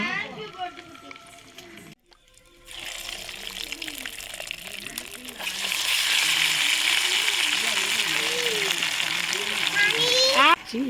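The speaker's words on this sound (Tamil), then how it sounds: "இப்போ வந்து நம்ம சிக்கனை பொறிச்சு எடுத்துக்கலாம்" Chicken 65 frying in hot oil, a steady broadband sizzle that swells and stays loud from the middle onward, with a voice talking over it throughout.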